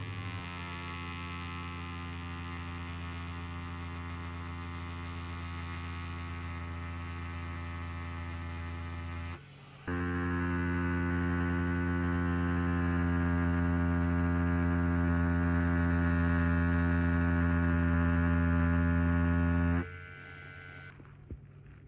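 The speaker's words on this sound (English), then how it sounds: "We're gonna use a 14-round liner and see how much punch this machine really has." Pepax Leve H3 5.0mm tattoo machine running with a 14-round liner needle, giving a steady close electric buzz with strong even hum that steps louder midway and stops abruptly near the end.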